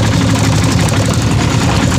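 A tractor engine idles close by near a farm field, producing a loud, steady, low rumble without pause.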